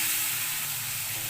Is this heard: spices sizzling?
yes